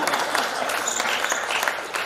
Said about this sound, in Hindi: सब लोग ताली बजाइए